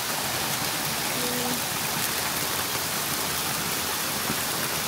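A large waterfall roars as a steady, loud broadband rush of falling water, unbroken and even for the whole stretch with no voices over it.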